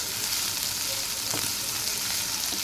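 Vegetables frying in a pan for sabudana khichdi, a steady broadband sizzle with faint stirring scrapes, close and continuous for a few seconds.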